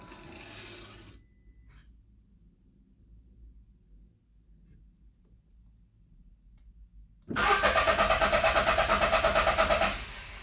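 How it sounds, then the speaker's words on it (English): Quiet stretch with faint background noise, then a 2013 Volkswagen Up 1.0 engine cranks and catches, settling into a loud, rapidly pulsing idle. "I'm gonna go ahead and attempt to start the car"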